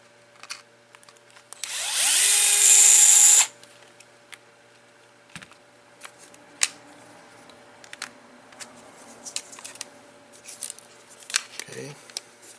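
A power screwdriver backs a screw out of an RC car chassis, a loud whirring burst lasting about a second and a half, followed by faint clicks and handling noises of small parts.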